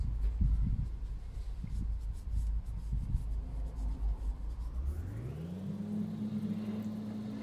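A cloth rubs against a glass bottleneck slide, a coarse scratchy scrubbing close up, before a small motor whirs up to a steady high hum partway through.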